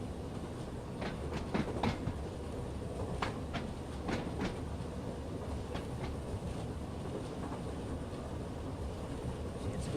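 Passenger train in Train Sim World 2 running on the Isle of Wight line, a steady close rumble of wheels on rails with repeated clicks and clacks over the joints, running alone with no talk.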